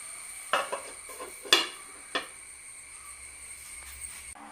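Quiet kitchen scene while Maggi pizza cooks in a pan as a lid is set over it: a few light metallic clinks and taps spaced across a few seconds, over a faint steady background hiss.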